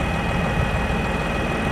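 A tractor engine runs in a vineyard with a continuous, loud, rumbling drone and a steady vibrating texture, holding one level throughout at close range with no voices.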